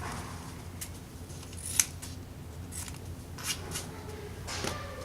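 Scissors snip through athletic tape during Achilles tendon taping, a few sharp, brief cuts scattered over a quiet room hum, close to the listener with no talking.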